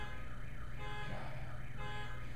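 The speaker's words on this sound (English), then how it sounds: "Excuse the alarm outside." A car alarm or siren-like alarm wails outside, a steady warbling tone rising and falling continuously, muffled and moderately distant, heard alone without talk.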